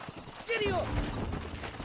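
Horse hooves clip-clop in Red Dead Redemption, a short burst of soft hoofbeats under a brief whistle-like game sound and low ambient rumble.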